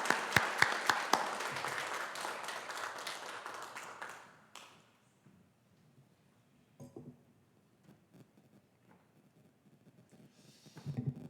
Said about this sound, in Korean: 박수 올려드립니다.